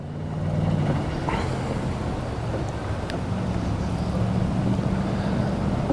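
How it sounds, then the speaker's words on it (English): Steady wind buffets the microphone with low rumbling gusts, continuous and fairly loud throughout. "Quite windy today."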